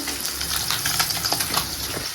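Fish frying in a pan on a home stove: a steady, moderately loud sizzle and crackle with small spattering pops, no talking.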